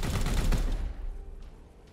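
Turret gunfire in the Warhammer 40000: Chaos Gate – Daemonhunters video game, a rapid burst of heavy shots that stops and decays into a fading rumble.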